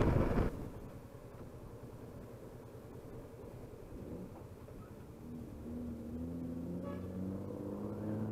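Motorcycle engine droning steadily on a highway while straining to overtake a truck, low rumbling road and wind noise with the engine tone rising slightly toward the end.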